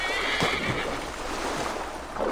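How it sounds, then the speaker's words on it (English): A horse whinnies briefly in Assassin's Creed Valhalla over a wash of water and ambient noise, the call rising and falling once, fairly close and without talk. "Horse is right there. Horse can swim."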